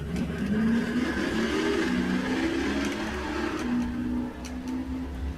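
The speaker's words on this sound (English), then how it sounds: "Chevrolet versus Ford again, as we've got the Corvette going up against the Mustang" A Chevrolet Corvette and a Ford Mustang race down a drag strip in a bracket race, a loud sustained engine roar with steady droning tones, heard from a distance without any talk.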